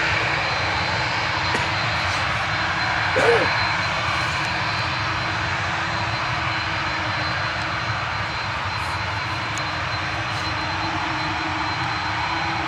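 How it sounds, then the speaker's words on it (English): An Aer Lingus airliner taxiing onto the runway at Manchester Airport, its engines giving a steady, distant whine and rumble over broadband outdoor noise with no talk. "Aer Lingus still there, looking like it's moving now onto the runway, ready for departure."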